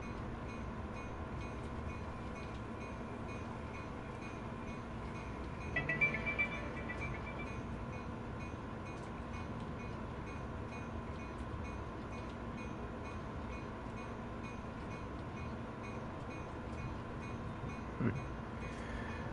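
Caltrain electric commuter train in Train Sim World 4 on the San Jose to San Francisco line, a steady low rumble of running gear with a faint tonal hum and a couple of brief clunks.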